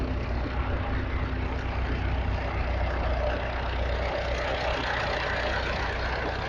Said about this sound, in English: Burrell Devonshire engine